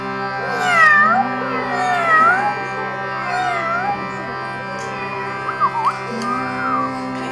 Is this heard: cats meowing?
yes